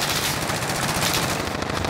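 Rapid automatic gunfire rattles continuously in a Call of Duty: Modern Warfare team deathmatch, loud and close, a dense unbroken burst with no talking over it.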